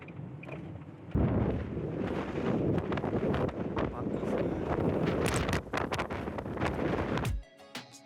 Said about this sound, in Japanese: 風がやばい。